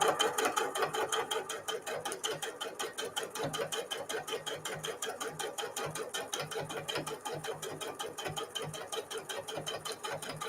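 A sewing machine quilts through the front fabric layer of a small microwavable mug cozy, running steadily and close with a fast, even mechanical rattle throughout.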